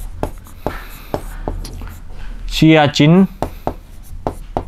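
A pen writes during a Class 6 maths lesson on integers, its close, crisp scratches coming in short repeated strokes throughout, interrupted briefly by a spoken word.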